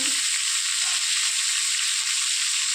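Potatoes added to cauliflower frying in oil in a Bengali village kitchen, giving a loud, even, hissing sizzle that stays steady and close for the whole stretch with no voices.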